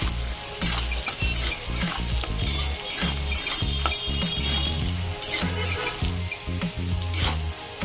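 Potatoes frying in oil for a bottle gourd dish, a loud steady sizzle with scraping stirs and clinks of a utensil against the pan throughout.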